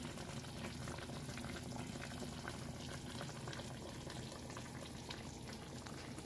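Steady bubbling of beef short rib braising liquid boiling in a pot, a continuous close-up rolling simmer with no voices.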